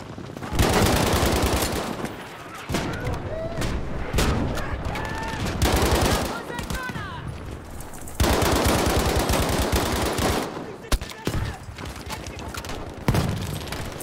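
Heavy automatic gunfire and explosions in a Battlefield 5 match on the Grind map, with sustained bursts and booms filling most of the stretch and brief lulls between.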